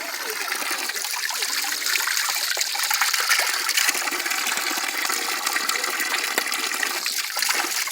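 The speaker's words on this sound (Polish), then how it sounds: "Po środku parku cieknie taki żywiec zdrój." Water from a spring in a park in Chișinău, Moldova, running in a steady, close, fairly loud splashing trickle that continues without a break.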